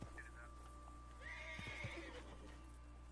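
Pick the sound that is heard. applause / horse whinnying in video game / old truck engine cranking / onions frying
horse whinnying in video game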